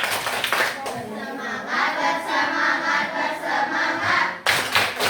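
A roomful of children claps together in a steady rhythm, loud and close, with a brief pause before the clapping starts up again.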